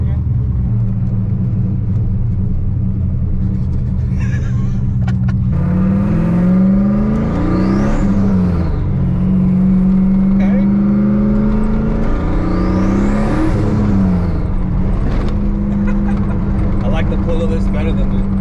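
A turbocharged Chevrolet Camaro, about 550 wheel horsepower, pulls hard from inside the cabin during a ride-along, its engine rising through the revs in two long climbs with a high turbo whine over a deep rumble, with passengers talking.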